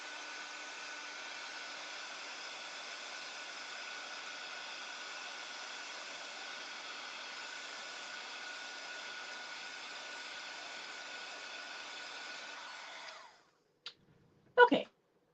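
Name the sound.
heat tool blowing hot air to dry ink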